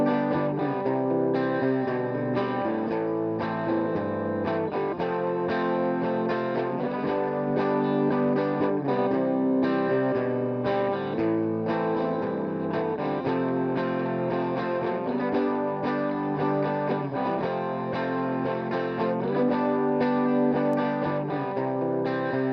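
A dense, distorted electric guitar mix plays continuously, first without and then with an EQ cut at 311 hertz, a thick, sustained chordal wall with a steady level and no talking.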